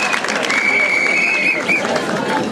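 Audience applause and crowd noise at an outdoor celebration on 6 August, a dense burst of clapping and babble lasting a few seconds, fairly loud, with a steady tone running through it.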